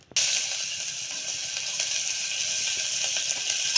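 Cumin seeds spluttering in hot ghee in a pan, a steady loud crackling sizzle that starts abruptly and holds throughout, close and without talking.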